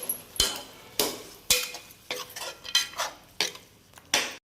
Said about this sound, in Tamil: தக்காளியை சேர்த்து நல்லா கிண்டி விட்டுருவோம்